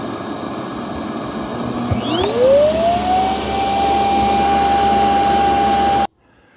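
A Eufy C10 robot vacuum's dock powers up to empty dust, a rising whine climbing into a loud, steady high-pitched suction roar that holds for several seconds before cutting off abruptly.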